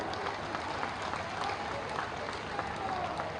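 Audience at a Bihar election rally clapping for the eldest leader on stage, a steady dense wash of applause lasting throughout, fairly loud and close with crowd murmur mixed in.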